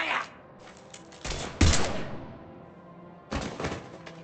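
Bursts of sci-fi gunfire in the video game Mass Effect 3, a few sharp, loud volleys separated by quieter stretches, with a low thump among them.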